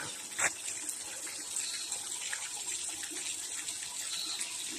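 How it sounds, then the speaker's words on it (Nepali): Faint steady stream of running water pouring and splashing from nine stone water spouts, continuous and close, with no voices. "हेर्न सक्नुहुन्छ 9वटा धाराहरू।"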